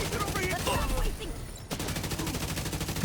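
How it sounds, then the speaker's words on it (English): Rapid bursts of shooter video game gunfire keep up a dense, loud crackle from start to end, with a short dip in the middle before the firing resumes. "Here, let me shoot you in the arms."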